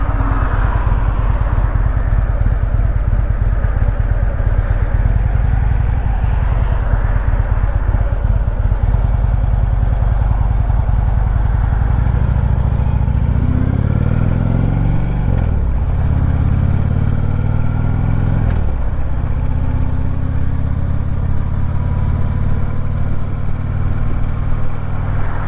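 A motorcycle engine runs steadily throughout, loud and close, with a couple of brief rev changes midway and wind rumble, on a ride out on a sunny day.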